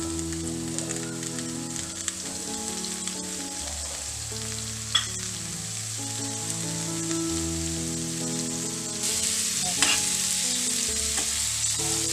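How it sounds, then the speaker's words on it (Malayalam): Sliced onions with salt fry in hot oil for a wheat egg puff filling, giving a steady, close sizzling hiss that runs the whole time under background music, with a couple of brief clinks. "ഇപ്പം എണ്ണ എല്ലാം ചൂടായി വന്നത്. അപ്പം നമുക്ക് സവാള ഇട്ട് കൊടുക്കാം."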